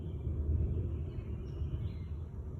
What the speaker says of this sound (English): Okay, that was more thunder.